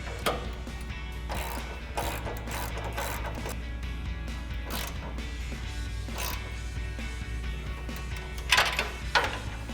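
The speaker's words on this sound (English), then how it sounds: "Now we can use our 9/16 wrench and our 5/8 socket and tighten it down." Wrench and socket work on the nut of an exhaust clamp during a 2014-2018 Silverado/Sierra 1500 dual exhaust install: repeated ratcheting clicks and metallic clinks in bursts, close up, over a steady low hum.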